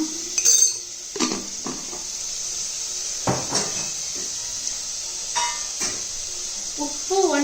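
Spoon clinking against a pan while turmeric and salt are added to onions, a few sharp metallic taps and scrapes over a soft background hiss, no talking.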